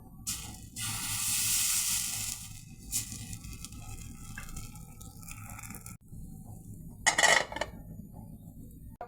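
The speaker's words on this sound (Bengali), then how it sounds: "এখন আমি পিঠাটা বানাবো একইভাবে গোলাটা দিয়ে দেবো" Rice-flour batter for dudh chitoi pitha hits a hot pan with a bright hiss that fades, followed by scattered clinks of utensils on cookware and another short burst of sizzling near the end.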